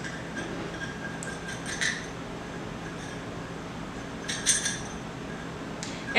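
Oats, almond flour and coconut oil being stirred together in a bowl for a gluten- and dairy-free triple berry crumble, with a steady soft scraping of the mix and a few clear clinks of spoon against dish.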